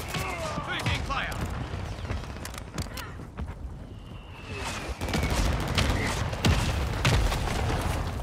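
Heavy gunfire fills a Call of Duty: Modern Warfare II match, with dense overlapping shots, booms and thuds throughout. Volume builds in the second half with sharp nearby impacts and continuous distant firing.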